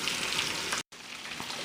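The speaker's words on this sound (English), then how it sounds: "they've been frying for about 5 to 7 minutes" Chicken lollipops frying in hot oil, a steady close-up sizzle and crackle with a brief cut to silence partway before the bubbling resumes.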